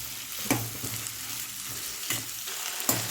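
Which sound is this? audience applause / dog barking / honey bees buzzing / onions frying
onions frying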